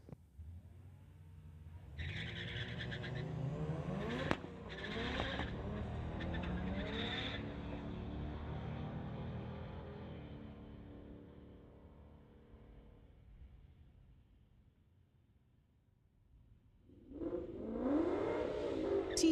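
A Monza and a Civic launch down a drag strip in a street tire class race, engines revving and roaring past before fading into the distance, then another car rises loudly near the end.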